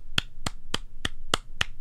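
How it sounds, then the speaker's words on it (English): Six sharp, evenly spaced hand claps, close and crisp, with silence between each. "Well, I'm clapping for you."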